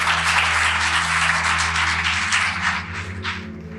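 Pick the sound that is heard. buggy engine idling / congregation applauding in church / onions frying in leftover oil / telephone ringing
congregation applauding in church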